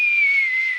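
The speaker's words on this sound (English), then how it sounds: "Again with the whistles." A single sustained whistle blast, loud and steady with a slight downward drift in pitch, heard alone for under a second.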